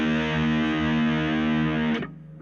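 Electric guitar driven through a Joyo Uzi distortion pedal on a brighter setting, a sustained saturated chord ringing loud and close, then abruptly cut off near the end, leaving a faint buzzing tail.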